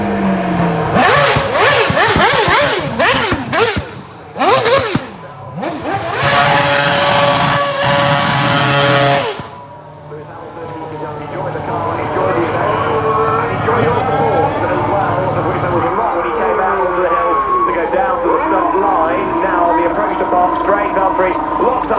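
A 2017 Mercedes Formula 1 car's engine screams close by at the Goodwood Festival of Speed, revving hard in rising, choppy bursts before the sustained note falls away into a lower fading drone as a commentator talks over it.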